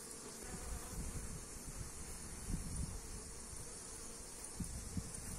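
Honey bees at the hive make a dense, continuous buzzing drone with a steady close hum. Occasional louder passes stand out as individual bees fly near, and no one speaks.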